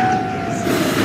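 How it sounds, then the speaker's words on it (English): A Gatlin-bound D subway train on the 5th Avenue line rumbles past at Fairview Avenue, a steady loud roar with a faint high whine running through it and no voices. "This is a Gatlin bound D train."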